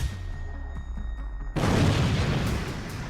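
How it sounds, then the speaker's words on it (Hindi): An Iranian Shahed drone crashes and explodes in Sumy: after a quieter low rumble, a sudden, loud, broadband blast bursts out and rolls on as a heavy, sustained roar. "ईरानी शाहिद ड्रोन सीधे आकर गिरा और बड़ा धमाका हुआ"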